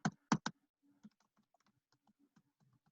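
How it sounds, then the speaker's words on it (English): A few loud key clicks come first, followed by quieter, scattered light taps on a computer keyboard, close and alone. "excuse my typing"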